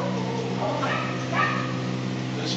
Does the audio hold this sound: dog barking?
yes